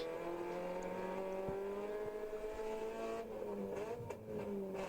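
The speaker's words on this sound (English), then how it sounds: "Quick little car." Endurance race car accelerating on a track at Sonoma, engine note rising steadily through the revs with a brief gear change near the end, heard from a moderate distance.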